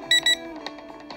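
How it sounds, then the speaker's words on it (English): A drone remote controller being switched on gives two short, bright electronic beeps in quick succession, followed by faint lower tones and quiet background. "Turn on your controller until it makes a beep noise"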